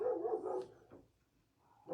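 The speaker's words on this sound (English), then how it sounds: "Yeah, she's a German Shepherd." A German Shepherd barks in a quick cluster of loud, close yelps, then fades to a near-silent pause before one more short sound at the end.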